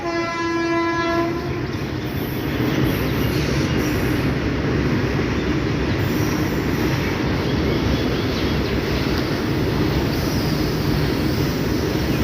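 A passenger train hauled by a WDP1 locomotive roars past loud and close, its horn blaring at the start, followed by a continuous rumble of wheels and carriages.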